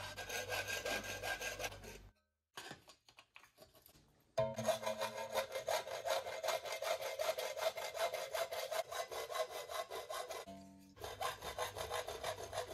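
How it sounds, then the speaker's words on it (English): A hacksaw cuts a 4 mm aluminium plate clamped in a vise. It gives steady, rhythmic rasping strokes up close, pauses briefly partway through, and then resumes. No one speaks. "I use my hacksaw to cut it out into a rough square"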